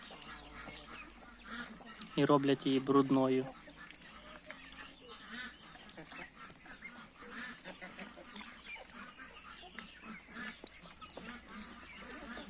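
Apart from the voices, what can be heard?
muscovy ducks with ducklings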